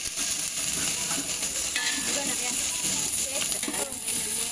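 Garlic paste, cloves, mint and coriander fry in hot oil with a steady, close sizzle and hiss, while a voice talks over it throughout.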